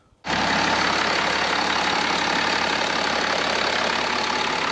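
A BMW X5 50d diesel engine starts up and idles after a turbo replacement, a sudden loud onset settling into a steady, even running drone close by.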